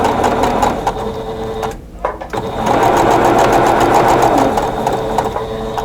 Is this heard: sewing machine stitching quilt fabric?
yes